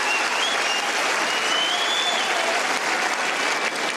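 Tennis crowd applauding steadily at an exhibition match in Abu Dhabi, a dense, continuous wash of clapping from a large audience that holds at an even level throughout, with no voices standing out.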